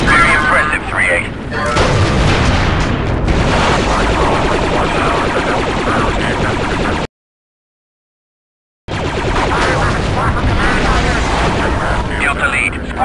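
Star Wars Republic Commando battle noise, with loud continuous booms and explosive grenade blasts. A sharp drop to silence for nearly two seconds breaks the roar before it resumes just as dense.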